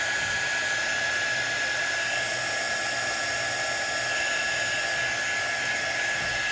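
Handheld dryer blowing hot air over thick paste on a distressed flag, a loud steady whine with a constant high tone, running unbroken from start to finish with no talking.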